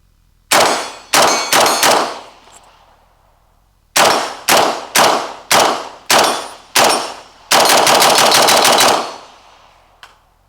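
A rifle with a Texas Weapon Systems dog leg dust cover fires a magazine dry at speed: four quick shots, a pause, six more evenly spaced, then a fast continuous burst, loud and close, ending with a faint metallic clink.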